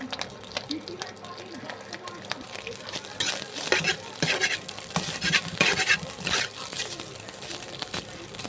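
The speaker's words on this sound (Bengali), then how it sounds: "ডিম ফ্রাই করা হচ্ছে এখন অর্থাৎ ডিম ভাজা হচ্ছে" Two eggs fry in a pan with a soft sizzle, while scraping and clattering stirs come close by and louder in the middle, under a person talking throughout.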